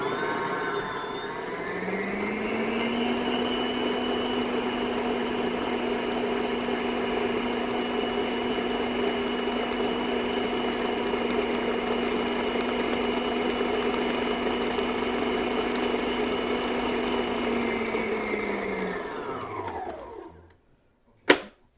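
An electric mixer whirs steadily as it creams chocolate chip cookie dough, a loud, sustained motor drone that holds for about twenty seconds, then spins down and stops with a brief knock at the end.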